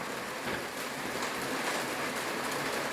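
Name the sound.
rain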